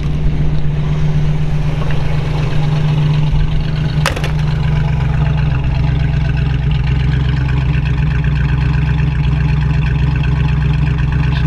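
A 1932 Ford Tudor sedan resto-rod with a 350 V8 idles steadily and smoothly, a loud, close, even engine drone that runs throughout with a brief sharp click partway through.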